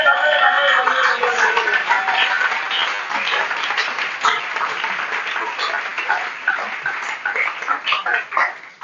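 A church congregation breaks into sustained, dense applause, loud and close, with scattered cheers rising over the clapping.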